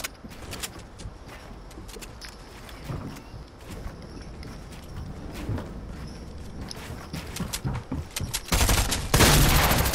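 Gunfire from a machine pistol in Fortnite, delivered as a run of sharp shots scattered across the clip and thickening into a loud, dense burst near the end, with game ambience between volleys.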